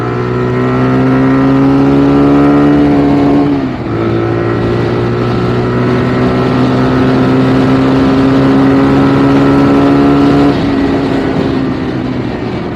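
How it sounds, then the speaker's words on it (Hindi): A 2023 TVS Raider 125 motorcycle revs steadily with a strong harmonic engine drone, dipping briefly near four seconds before pulling again, loud and close with no talking. "आगे बात करते हुए थोड़ा सा एक्सेलरेट करके देख लेते हैं बाइक को।"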